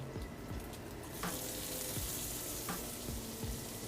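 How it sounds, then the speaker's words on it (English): Onion sizzling in an omelette pan: a steady frying hiss that swells after the first second, with a few light utensil taps and scrapes, close but fairly quiet, no speech. "Now we're going to go ahead and add about 1 ounce of onion."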